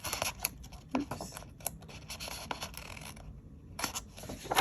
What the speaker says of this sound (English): I'm just gonna cut off the excess parts